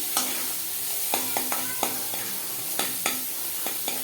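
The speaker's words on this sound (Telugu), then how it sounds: "ఫ్రై చేస్తున్నానండి ఉల్లిపాయలు" Onions fry in a pan for paani puri filling, with a continuous sizzle broken by repeated sharp scrapes and clinks of a utensil stirring against the pan at an uneven rhythm.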